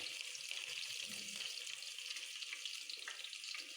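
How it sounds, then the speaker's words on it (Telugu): Green chilies sputter and crackle in hot oil in a pan while chicken curry is being made, a steady broadband sizzle with small pops, close and fairly quiet, with no talking. "పచ్చిమిరపకాయలు వేద్దాం ఓ పచ్చిమిరపకాయలు బాగా పిరపట్లు ఆడేస్తుంది"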